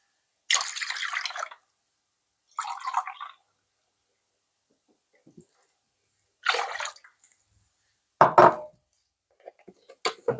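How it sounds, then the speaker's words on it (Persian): Warm water and milk are poured into a bowl for sandwich dough, heard as several separate short pours and splashes with silent gaps between them, the loudest burst near the end. "شیر همراه آب اضافه کردیم"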